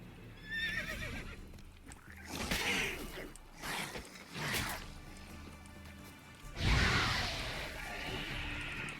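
A horse in the video game The Witcher 3 neighs and whinnies several times with clopping hooves at a gallop, fairly close, mixed with game background sounds.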